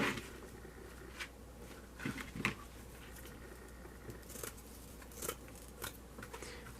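Scissors snip through gold decorations for a Mardi Gras wreath, making a few separate crisp cuts spread over quiet stretches, close by and soft.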